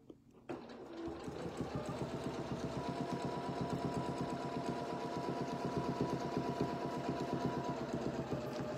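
A sewing machine stitches a quilt, starting after a brief quiet moment and then running steadily with a fast, even needle rhythm, close and alone.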